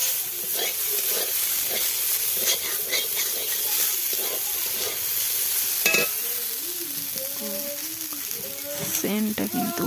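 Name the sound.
potatoes frying and being stirred in a pan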